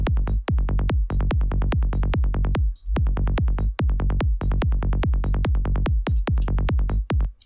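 Psytrance kick and rolling bass pattern programmed in Ableton Live, punchy booming kicks pulsing in a fast even rhythm with occasional double kicks, loud and alone without voices.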